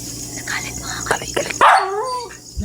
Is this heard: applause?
no